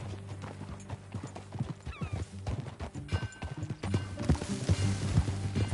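Horse hooves clip-clop at a steady gait in Red Dead Redemption 2 while riders travel, with a brief whinny and a low background hum under the footfalls.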